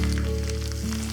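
Round-cut small onions sizzle as they drop into chicken frying in oil for Chintamani chicken, a steady close crackling hiss under a low continuous hum.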